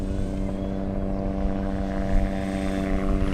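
An FMS F7F Tigercat RC airplane with 1700mm wingspan and twin 460KV electric motors flies overhead at an airfield, its propellers giving a steady droning buzz with strong tonal hum, fairly close and continuous.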